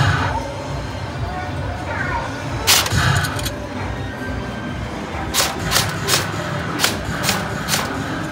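Sharp cracks of an arcade shooting game's guns firing at targets, one shot near the start and then a quick series of snapping bursts, under background chatter and crowd noise in an indoor game arcade.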